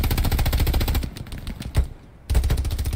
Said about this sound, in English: I'm laying down some suppressing fire.